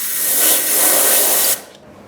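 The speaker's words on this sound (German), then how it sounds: "Blasen wir das Ganze mal aus." Compressed air is blown through a BMW R 1150 motorcycle gearbox part, a loud, steady hiss lasting about a second and a half before cutting off sharply.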